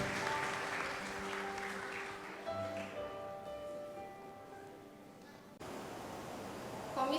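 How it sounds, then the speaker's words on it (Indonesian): Applause from the congregation at a church Christmas celebration, a muffled, continuous wash of clapping heard from a distance, with a faint tonal hum beneath and a brief dip before it swells again. "Ayo kita beri tepuk tangan kembali sekali lagi"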